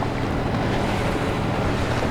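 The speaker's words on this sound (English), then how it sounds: "You see the waves here?" Choppy water in a strong-current cut, heard from aboard a boat with the wind directly behind: a steady, close wash of broadband wave noise and wind rumble, with no speech.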